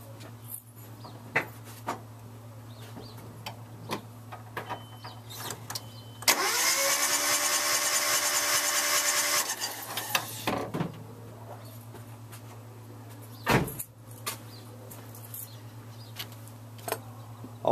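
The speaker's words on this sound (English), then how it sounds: "the sound of the turnover was audibly different. It was continuous." A car engine cranks over steadily for about three seconds during a compression test, with a continuous whirring turnover and no cylinder compression, set against a low steady hum and scattered clicks.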